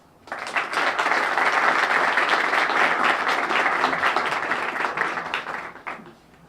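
A steady wash of audience applause welcomes speaker Phil Carroll at a formal event, rising quickly, holding loud and dense for several seconds, then tapering off with a few last claps.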